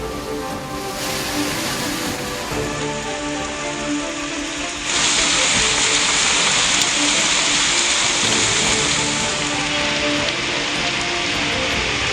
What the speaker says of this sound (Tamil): மதுரையில் பல்வேறு பகுதிகளில் வெளுத்து வாங்கிய கனமழை.